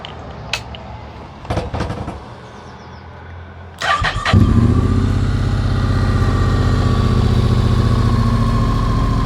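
A Honda NC750S DCT motorcycle engine cranks after a few faint clicks, catches and settles into a steady, loud, close idle that runs to the end with no talking.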